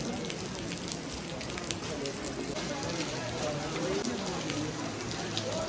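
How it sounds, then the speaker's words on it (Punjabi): Steady rain falls without a break on a mountain pilgrimage trail to Hemkund Sahib, a soft, even hiss of drops that carries on faintly and evenly throughout. "ਜਿਵੇਂ ਕਿ ਤੁਹਾਨੂੰ ਦੱਸਿਆ ਸੀਗਾ ਮੀਂਹ ਲੱਗ ਗਿਆ ਆ"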